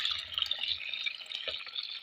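Water poured into a container, 900 ml, a continuous close bright splashing trickle with small gurgles for about two seconds, no talking.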